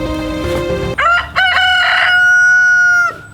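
A rooster crows loudly and close, a long drawn-out call that follows a few clucking notes, heard alone without talk.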